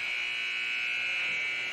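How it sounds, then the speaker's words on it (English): An ice hockey arena's end-of-period buzzer blares as one steady, loud electronic drone that holds for the whole stretch. "Buzzer sounds. That ends the first."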